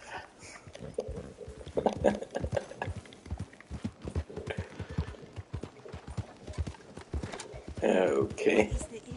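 Horse hooves clip-clopping in a western-themed video game, a quick irregular patter of hoofbeats running under people talking throughout, with louder voices near the end.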